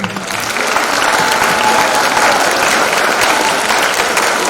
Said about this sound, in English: So I want a big round of applause to them.